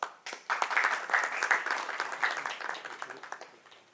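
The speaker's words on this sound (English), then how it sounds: "Let's welcome him with a huge round of applause." Audience applause welcomes a keynote speaker at a summit, a short burst of clapping that starts strongly, holds briefly and gradually thins out over a few seconds, with some faint voice mixed in.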